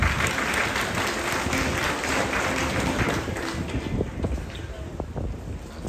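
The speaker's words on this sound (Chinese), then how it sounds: "掌声欢迎" A crowd at a factory opening ceremony claps steadily and loudly to welcome a speaker to the stage, the applause sustained throughout and slowly thinning toward the end.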